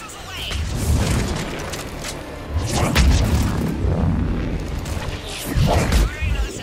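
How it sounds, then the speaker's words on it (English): In Mass Effect 3, a salvo of missiles slams into targets as repeated heavy booms and crashing explosions with whooshing debris, loud and close, in three large waves; a voice speaks over them. "Missiles away."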